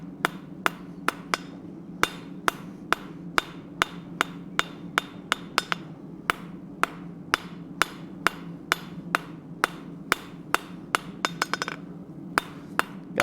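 Steel being hammered on an anvil during a forging job, trued up along a taper: a steady run of about thirty sharp, ringing strikes close by, evenly spaced over a low background hum, with no talking.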